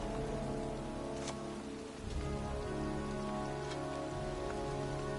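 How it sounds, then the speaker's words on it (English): Pouring rain falls steadily in a cemetery as a soft, continuous hiss with no break, recorded at low volume and with no voices. "standing in a cemetery, in pouring rain"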